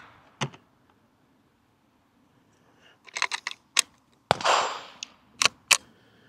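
Pistol shots ring off steel targets on the Outer Limits stage of a Steel Challenge match: sharp, loud, close cracks come singly and in quick bursts, separated by short quiet pauses.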